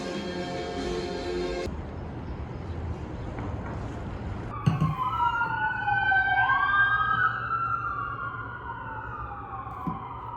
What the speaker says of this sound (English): I think the sirens are done now